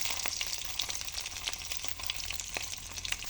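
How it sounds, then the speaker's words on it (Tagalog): Tuyo, dried fish, fries in a pan with a faint, steady crackling sizzle, sprinkled with small pops and sputters throughout, quiet and close with no voices. "Prito po natin yung tuyo."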